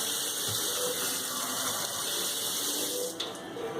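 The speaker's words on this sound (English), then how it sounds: "we're going to put a little bit of water in this pan, like so." Water pours steadily into a lasagna pan, a continuous close rushing splash that holds at even loudness and tapers slightly at the end.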